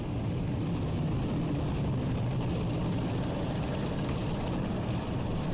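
A Class 47 diesel locomotive at full throttle in the video game Train Sim World 5 gives off a steady, dense engine roar with a constant low drone throughout.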